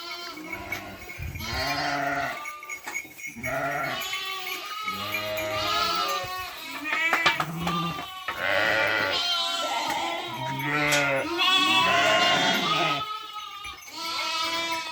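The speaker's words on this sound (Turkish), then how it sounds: "Kuzularla anneleri buluşması." A flock of Zwartbles cross lambs and ewes reuniting, bleating constantly, many overlapping calls, some high and some deeper, close by and loud, with no talking.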